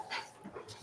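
A dog whimpers softly as it approaches indoors, giving faint short yips and whines against a quiet room.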